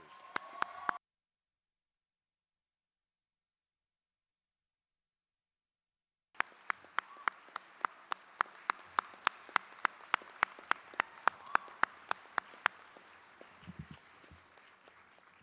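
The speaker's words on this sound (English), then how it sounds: "Let's have one more round of applause for the Woosh.ji.een dancers" Audience applause at the University of Alaska Southeast Juneau 2019 commencement for the Woosh.ji.een dancers: a brief burst, a gap of silence, then a sustained round of clapping with sharp individual claps over a steady wash before it fades.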